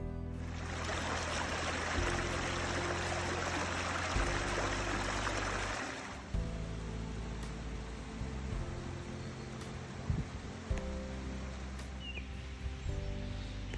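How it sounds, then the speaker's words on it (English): Steady outdoor rain hisses as a dense, even wash, heavy at first and then softer, with a low droning hum underneath and occasional small knocks. "It's raining, sometimes pouring"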